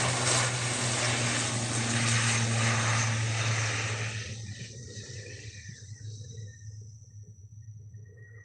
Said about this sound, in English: Now we've got a prop on its way out.